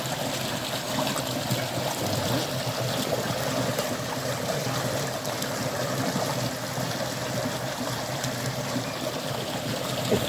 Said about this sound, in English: to let George sample Tubber's holy water